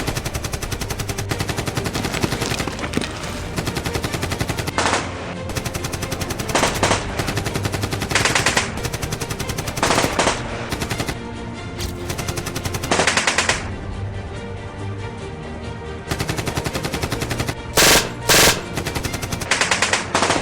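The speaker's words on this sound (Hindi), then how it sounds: "मिलिटेंट्स ने फायर करना स्टार्ट कर दिया" Sustained machine gun fire from militants targeting the leading section of a commando platoon, loud and dense, with long rattling bursts and single shots continuing almost without pause throughout.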